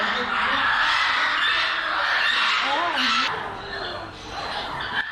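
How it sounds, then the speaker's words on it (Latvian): A green Amazon parrot squawks with sharp, warbling calls over a busy, noisy background, near and fairly loud, with a brief higher cry in the middle. "Šis ir zaļais amazoņu papagailis."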